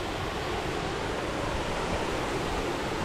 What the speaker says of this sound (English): Great, we have a waterfall.